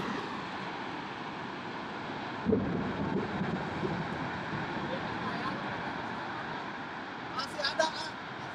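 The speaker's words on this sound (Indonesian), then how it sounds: "Angin puting beliung di Kahatek." Whirlwind tornado winds in Bandung roar as a broad, rushing blast buffeting the microphone, surging and gusting unevenly while people shout over it.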